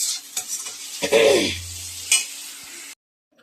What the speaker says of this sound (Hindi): यहाँ पर मेरा सब्जी का मसाला भुन रहा है